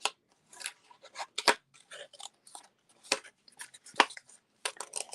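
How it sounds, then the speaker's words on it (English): Scissors snipping out a piece, giving a series of short, crisp cuts in an uneven rhythm, close and fairly quiet with brief gaps between them. "Now let's go ahead and cut this one out."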